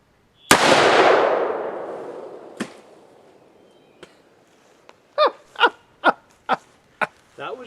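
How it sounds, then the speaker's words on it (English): One loud full-power .44 Magnum shot from a Hawes Great Western revolver is fired at a shaving cream can about 12 yards downrange. A long ringing echo fades out, followed by a few small clicks and several short, quick vocal bursts. "we're going to try some full power 44 Magnums on it"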